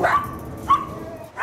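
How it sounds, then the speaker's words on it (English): Dogs barking in short bursts, a sharp bark at the start, another about midway and a third at the end, fairly close and loud over a low background rumble. "the dogs are gonna bark."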